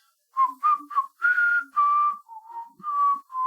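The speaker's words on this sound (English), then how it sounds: "I'm just keeping that melody going, whistling." Someone whistles a melody alone, clear bright notes in short phrases with brief pauses, fairly close and steady in loudness.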